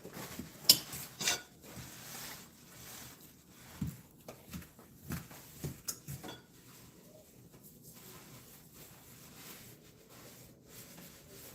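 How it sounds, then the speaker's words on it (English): A pan is wiped with oil, a soft rubbing and scraping with a few light metallic knocks and clinks near the start, then settling into a quiet, steady rub. "I'm going to take some of this oil. I'm going to give our pan a little wipe."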